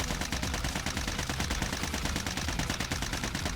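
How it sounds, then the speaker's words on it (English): A C58 assault rifle in Warzone fires a full magazine in one unbroken automatic burst, the shots running together into a loud, dense rattle that is close and holds steady throughout. "I'm going to fire an entire clip."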